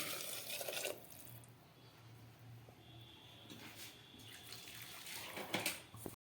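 Warm water poured into a pan of fried potatoes for a thin mutton curry, a steady splashing gush that eases into softer trickling and then swells again near the end, close and fairly quiet with no talk.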